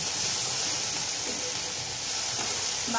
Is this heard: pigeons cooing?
no